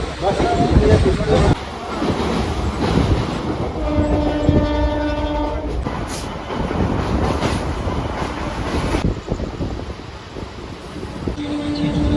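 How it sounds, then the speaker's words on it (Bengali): A local passenger train in West Bengal rolls along with steady wheel rumble and clatter, sounding its horn in a long sustained blast near the middle, heard from on board with some voices underneath. "তো ট্রেন এখন এসে পৌঁছালো কাঁথি স্টেশনে"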